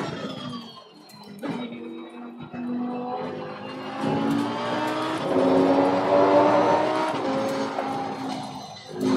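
Lamborghini race car engine at Spa in Assetto Corsa Competizione, droning steadily at part throttle with rising harmonic pitch as it builds speed, loud and continuous with no talk.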